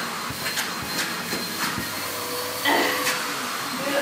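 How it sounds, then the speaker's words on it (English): A household vacuum cleaner runs continuously at moderate loudness with a steady hissing drone, punctuated by a few faint knocks and a brief louder surge near the end. "the vacuum cleaner making a racket"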